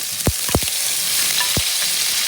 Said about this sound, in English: So now we are going to fry this gatte in the oil first